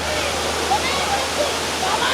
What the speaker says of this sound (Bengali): ঝর্ণাটা আপনারা দেখেন একটু দেখেন ঝর্ণাটা